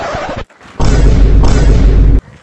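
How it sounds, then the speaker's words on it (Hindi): Loud, close Diwali firecracker blasts, a sharp burst followed by a sustained heavy roaring rumble lasting over a second, with a brief gap between. "बे पटाखा यहाँ मत फोड़ो साला"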